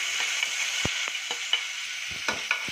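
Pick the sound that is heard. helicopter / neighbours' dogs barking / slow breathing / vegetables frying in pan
vegetables frying in pan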